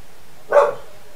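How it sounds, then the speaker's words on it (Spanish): A single short, sharp bark from a dog rings out once near the middle, fairly close, against an otherwise quiet background. "Se han metido mis perros y quieren salir en el video."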